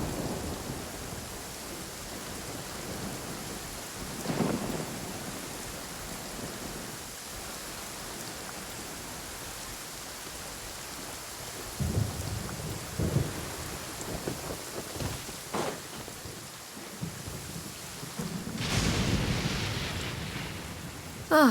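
Steady rain and rumbling thunder from a storm in Genshin Impact, with a constant hiss of falling rain and several thunder rolls and cracks, the loudest building near the end.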